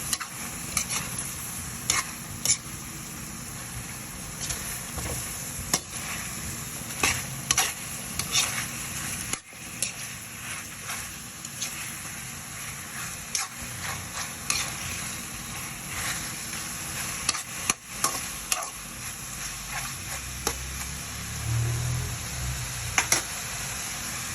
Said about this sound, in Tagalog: Tapos haluin natin siya.